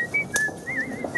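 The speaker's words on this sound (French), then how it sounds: "est un virtuose de la musique sifflée" A virtuoso whistler carries a bright, clear melody, the pitch gliding and wavering over a short phrase with a faint click partway through, close and alone.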